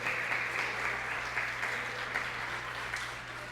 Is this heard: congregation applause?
yes